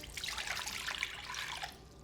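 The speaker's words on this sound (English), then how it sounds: "First, pour in your water" Water poured into a large bowl: a soft, close splashing trickle with bubbly gurgles that lasts about two seconds, then tapers off, with no voices.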